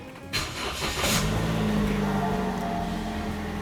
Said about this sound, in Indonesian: Dan sebelumnya kita mau panasin mobil dulu.